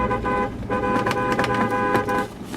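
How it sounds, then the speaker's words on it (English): A pickup truck horn honking in celebration after a successful early-season bow hunt for a giant buck, a few short loud toots in quick succession, close by with no talk. "Honky honk here with the truck."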